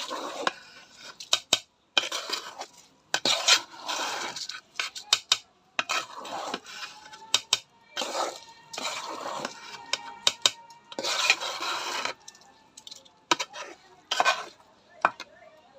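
Rice is fried and stirred in a pot for biryani, with irregular bursts of metallic scraping and clinking of the spoon against the pot, close and fairly loud, separated by short quiet gaps.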